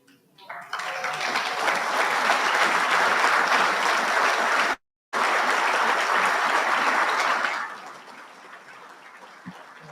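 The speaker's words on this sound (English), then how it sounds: "You're going to get a lot of applause tonight" Applause at an awards dinner, broad sustained clapping from a room of guests that runs loud and even for several seconds, briefly cuts out, then fades into quieter room sound near the end.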